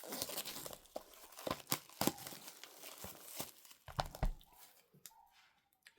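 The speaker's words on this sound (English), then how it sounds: "So we'll take off the cellophane." Cellophane is torn and crinkled off a Blu-ray slipcase, close and quiet, in a series of sharp rips and crackles with short pauses between.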